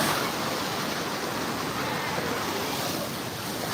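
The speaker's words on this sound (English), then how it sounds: "As you can see all the waves." Ocean waves break and wash continuously on Clearwater Beach, Florida under rough, cloudy conditions, a loud steady surf mixed with wind buffeting the microphone.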